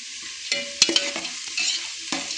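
Vegetables fry and brown in a pan for vegetable pulao, a close sizzling hiss broken by several sharp stirring scrapes and clinks of a spoon against the pan, with no talking.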